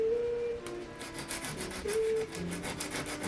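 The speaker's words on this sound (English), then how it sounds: "So what I'm going to do is shave them down using this really coarse sandpaper" Coarse sandpaper shaving down wooden shims under a guitar neck on a Hagstrom acoustic, a steady close scratchy rubbing in quick repeated back-and-forth strokes, heard alone with no talking.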